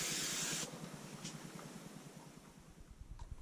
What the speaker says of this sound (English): give them a quick spray with a brake cleaner